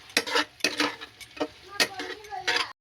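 Pasta being stirred with pasta masala in a pan, a spoon scraping and clinking against the metal in several distinct bursts, close and fairly quiet.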